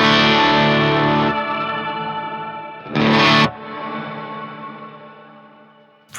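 An electric guitar plays through the shimmer reverb of an EHX Oceans Abyss pedal. Sustained distorted chords bloom into a bright, octave-up wash that rings and fades, with a second strum partway through.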